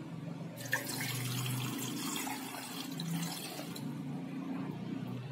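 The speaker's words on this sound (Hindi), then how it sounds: "अब मैं इसमें दो कप के हिसाब से पानी डाल दूंगी" Water pours steadily into a pan holding six eggs for boiling, a continuous close splashing stream that stops near the end, with no talk.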